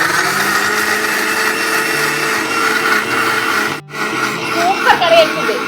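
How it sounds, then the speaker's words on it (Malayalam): A mixer grinder jar runs steadily as it grinds a masala paste for a curry, a loud continuous whirring drone that briefly cuts out near the end before restarting, with a voice speaking over it. "ഇനി ഈ മസാല ഒന്ന് മിക്സിൻ്റെ ജാറിലിട്ടിട്ട് ഒന്ന് അടിച്ചെടുക്കാം."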